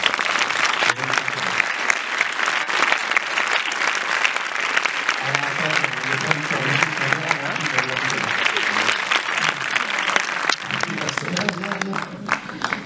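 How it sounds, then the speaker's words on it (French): Cinema audience applauding a production assistant at a film premiere screening; sustained, thick clapping from a large crowd runs the full length, with some voices and cheers mixed in and music surfacing midway. "je vous demande de l'applaudir"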